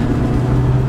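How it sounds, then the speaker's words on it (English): A MINI Cooper's engine pulls hard while merging, giving a close, loud, steady drone for about a second. "Oh, listen to that engine note."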